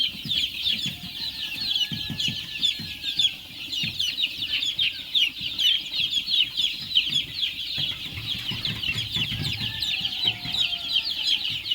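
On a poultry farm holding around 1600 chicks, chickens cluck and chicks cheep in a dense, continuous chorus that stays close and steady throughout, with no voices.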